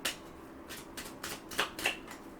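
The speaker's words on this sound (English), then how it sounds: "y'all seen me shuffling the deck and y'all seen it flop out" A tarot deck is shuffled by hand, a run of quick papery riffles and flicks close by, about six distinct bursts in rhythm in a quiet room.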